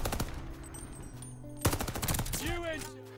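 Call of Duty: Vanguard, a World War II video game, fires its weapons in rapid bursts that stack into a dense crackle, while a voice speaks over the gunfire.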